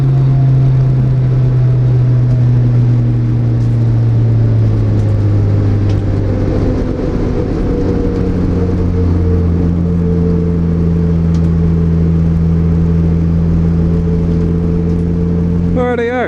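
A Mazda MX-5 engine drones continuously while lapping the Phillip Island Grand Prix circuit, loud and close from inside the cabin, its steady pitch shifting gradually as revs change through the corners, with a brief burst of rattling at the end.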